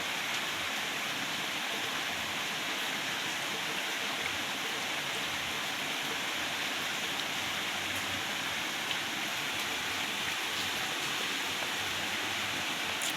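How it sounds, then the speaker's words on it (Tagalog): Heavy rain falling by the sea, a loud, dense and steady hiss of downpour with no breaks and no voices throughout. "Saka kusog sa ulan guys, dili maklaro ang dagat tura."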